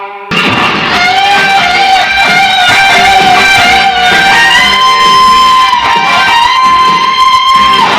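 Distorted electric guitar playing a lead line of quick pull-offs, steady and loud throughout with no talking.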